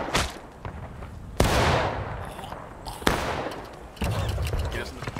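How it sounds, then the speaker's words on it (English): Massed musket volleys crash out at intervals in a War of Rights Civil War battle, three sharp broadband blasts with rolling reports and battlefield clamor between, voices shouting in the background. "Company, take aim! Take aim! Fire!"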